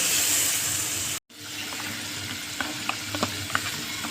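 Green chillies fry with yogurt in a pan, a steady sizzling hiss with a brief cut near the start, then light clinks and scrapes of stirring.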